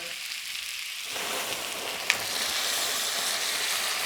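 Pieces of pork shoulder hit a hot pot for Japanese curry, a quiet start giving way to a steady, loud sizzle and crackle that holds to the end, with one sharp clink partway through.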